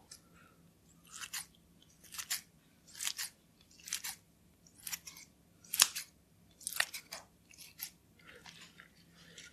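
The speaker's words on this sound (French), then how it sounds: "le slime, tu peux le couper" Scissors snip through slime about ten times in a steady rhythm, each close, crisp cut landing with a squishy crunch against a quiet background, with no talking.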